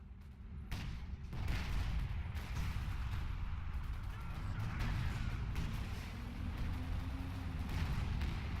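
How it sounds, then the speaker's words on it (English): Flame mortar rounds fire and burst on infantry in a Battle for Caen wartime battle, a rolling rumble of booms and crackling blasts that carries on steadily with no one talking. "Another flame mortar goes in on these troops."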